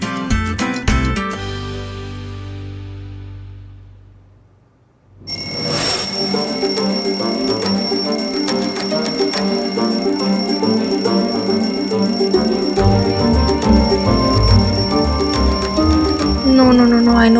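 An alarm clock rings loudly and continuously in a kitchen scene, a bright metallic bell that keeps going with no break, joined by clattering and voices talking over it.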